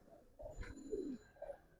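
A pair of silver Giribaz pigeons cooing close by, soft throaty rolling coos in two short bursts over a quiet background.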